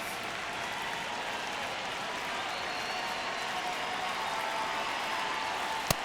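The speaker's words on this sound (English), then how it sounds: "Crowd locked in right now." Steady crowd roar from a simulated Diamondbacks versus Giants baseball video game, sustained and even throughout during a tense one-run ninth inning, with a brief sharp click near the end.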